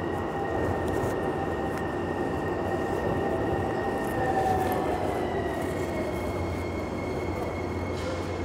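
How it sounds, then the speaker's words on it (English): A Miami Metrorail train starting to move, heard from inside as a loud, continuous rumble with rising motor whine tones and faint wheel squeal. "Once this train gets moving, it should be a relatively quick ride to downtown."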